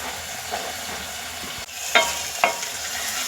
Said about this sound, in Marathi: आता हे हरभरे आपण मसाल्यामध्ये परतून घेतले